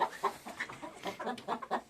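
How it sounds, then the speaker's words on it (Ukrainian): Chickens and a rooster on a small Ukrainian home farm, including a black-coloured rooster, cluck and squawk in a restless, overlapping series of short calls, fairly close and loud with no talk over them. "У мене півник он, ну, чорний такий кольоровий."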